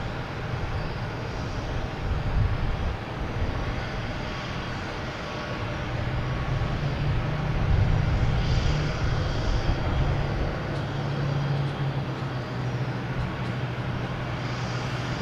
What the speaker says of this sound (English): we have a JetBlue coming in from Aruba